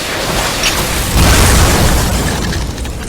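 An explosion ability goes off in the Roblox-style fighting game Jujutsu Shenanigans, a loud, dense rumbling blast that swells around the middle and rolls on without any talk.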